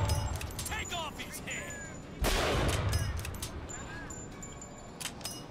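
A sharp, loud gunshot hits suddenly midway in BioShock Infinite and leaves a noisy tail, over steady background game noise and faint electronic tones.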